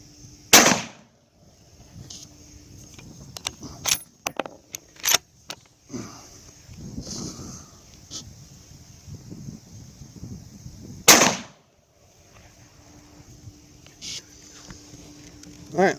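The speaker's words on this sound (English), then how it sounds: "let's put 2 rounds down range and let's go check the target" Rifle shots ring out during zeroing at a range: two loud sharp reports several seconds apart, with lighter clicks and handling noises in between over a steady background hum.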